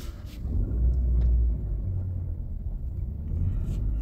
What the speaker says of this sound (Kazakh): Енді жайлап газ берген жағдайда көріп тұрғандарыңыздай сцепленияны жіберіп, газ беріп